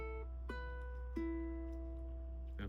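A few plucked ukulele notes ring out one after another, each sustaining briefly over a quiet low background hum.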